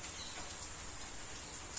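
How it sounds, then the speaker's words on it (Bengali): Heavy rain pours in a constant, even roar at moderate volume, with no other distinct sounds. "কি বৃষ্টি"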